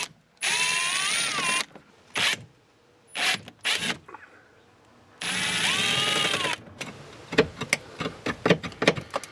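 A wrench works 10 mm screws loose on the reinforcement of a Renault Master van. Two long buzzing bursts of power-tool spinning are separated by short mechanical bursts, then a quick run of ratcheting clicks follows.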